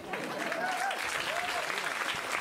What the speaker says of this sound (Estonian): teeme Veinbergsile ka mingi aplausi